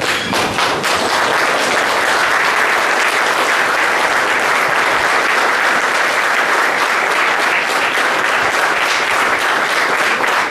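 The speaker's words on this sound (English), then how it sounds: "We can have a standing applause for our first," Standing ovation for an honoured guest at a professor's felicitation function: dense, loud applause from a large crowd, steady and unbroken from start to finish with no talk over it.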